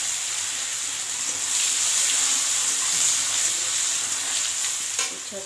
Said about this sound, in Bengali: পাঁচফোড়নটা গরম হয়ে গেছে, ভাজা হয়ে গেছে, তাতে আমি উচ্ছেগুলো দিয়ে দিলাম।